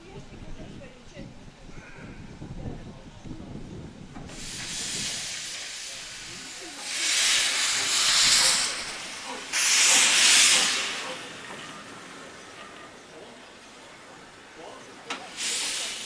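A steam locomotive on a Manx railway lets off loud bursts of hissing steam, several long blasts in a row after a quieter stretch with someone talking.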